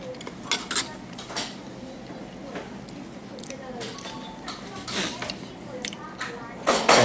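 Light clinks of cutlery against dishes come in scattered, close taps during a dinner of rice with fish, one louder clatter near the end, under intermittent talk.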